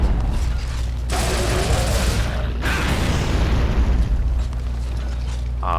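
Loud rumbling explosions in Gears of War, a continuous roar of blasts and booms with a sharp burst near the middle, no speech on top.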